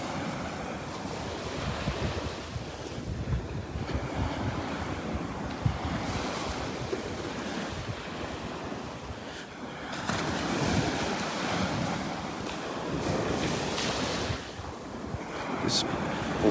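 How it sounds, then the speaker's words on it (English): Ocean surf rolls onto Vanderbilt Beach in North Naples, Florida, a steady wash of breaking waves with gusts of wind buffeting the microphone, continuous and close with no voices. "enjoying the sounds of the waves."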